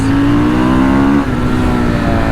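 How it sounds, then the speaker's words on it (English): A Fantic Caballero Flat Tracker 500 motorcycle engine revs loud and close, holding a steady, buzzy single-cylinder drone that dips briefly midway and then picks back up. "Great little bike. Great power, sounds fantastic."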